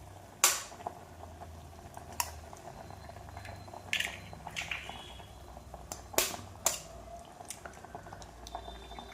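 Egg curry bubbles in a pan with soft popping and gurgling, punctuated by a few sharper clinks and splashes, close and moderately quiet.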